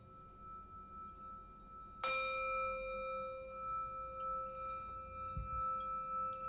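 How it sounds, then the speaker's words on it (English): Meditation chime struck once, ringing out bright and clear over a quiet background and sustaining a long, slowly fading tone. "listen to some of these chimes here"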